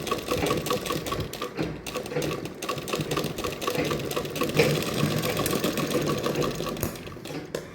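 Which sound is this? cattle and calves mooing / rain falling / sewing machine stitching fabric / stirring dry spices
sewing machine stitching fabric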